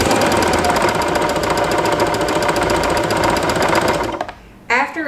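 Janome 311 Arctic Crystal sewing machine running fast to wind a bobbin, a loud rapid mechanical whirring held steady for over four seconds, then stopping abruptly, followed by a brief voice.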